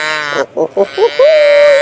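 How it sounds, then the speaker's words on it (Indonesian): A toy cow plays its electronic moo call loud and close: a few short choppy bursts, then one long, steady, nasal tone. "Wow, dan ada sapi."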